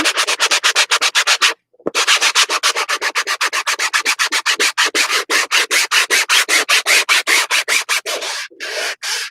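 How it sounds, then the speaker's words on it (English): A vinyl cover is sanded by hand in loud, fast, rhythmic back-and-forth rasping strokes, close up, with one brief pause early on and no talking. "I can sand it down, and then I know I've sanded it down, because this is kind of a vinyl cover"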